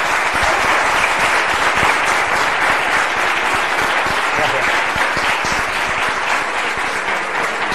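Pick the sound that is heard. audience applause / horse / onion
audience applause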